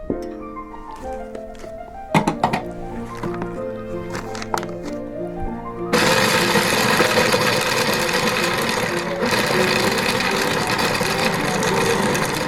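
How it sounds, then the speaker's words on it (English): Food processor grinding organic almonds, starting after about six seconds as a loud, steady broadband whir that runs to the end; before it, sustained musical tones play with a few sharp clatters. "we'll grind some up in our food processor"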